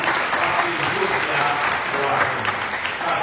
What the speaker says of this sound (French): Il y a un applaudissement pour frère.